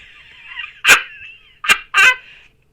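A dog gives three sharp barks close by, one and then a quick pair, between stretches of quieter whining.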